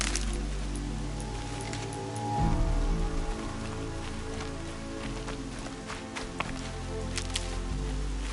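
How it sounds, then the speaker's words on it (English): Steady rain in a video game patters across surfaces, a dense hiss with scattered drops and a low rumble underneath, moderately quiet and continuous. "Everything's sharp and looming in the rain."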